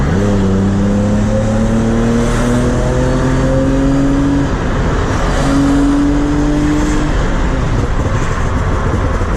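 BMW E30 with a swapped M54 engine on a highway, revving up through the gears with a downshift midway, engine pitch climbing loudly from inside the car against steady road roar.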